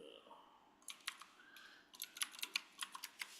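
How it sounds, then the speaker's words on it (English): Faint keystrokes tap on a computer keyboard in a short irregular run of light clicks, quiet and close. "so I don't have to listen to you tap on your keyboard"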